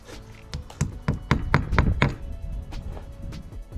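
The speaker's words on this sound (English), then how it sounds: "Then I get a 6mm red raw plug and I pop it in with a hammer." A hammer taps a 6mm red wall plug into a drilled hole while an outdoor socket is fitted, a string of sharp close knocks coming in quick succession, then fading to a few softer taps.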